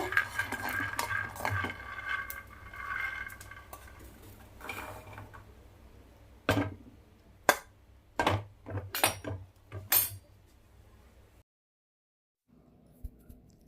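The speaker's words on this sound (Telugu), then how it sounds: "పల్లీలు దోరగా వేయించుకోవాలి" Peanuts being roasted in a metal pan, a spoon stirring and scraping with rattling, clinking strokes close up, scattered sharp knocks later, then a brief silence.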